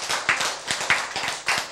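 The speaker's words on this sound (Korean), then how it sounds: "박수!" A congregation claps together during a sermon, a few sharp, close hand claps in a rough rhythm of about two to three per second over almost two seconds.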